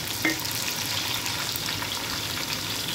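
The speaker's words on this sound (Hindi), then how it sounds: "अब डालेंगे ये अदरक और ये लहसुन, इसमें डाल के थोड़ा इसको भूनेंगे" Ginger, garlic and green chilies fry in hot oil in a pan, making a dense, steady crackling sizzle with a brief clink of a utensil near the start.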